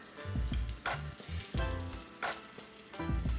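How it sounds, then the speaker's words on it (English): Party chicken wings coated in egg and flour fry in hot oil, a loud, close, continuous sizzle with bubbling bursts that swell and ease in waves. "that's frying up pretty good"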